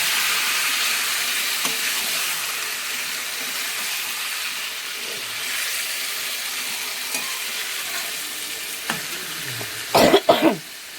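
Meat frying in a pan after being added to tempered spices, a soft continuous sizzle with occasional stirring scrapes and a few coughs near the end.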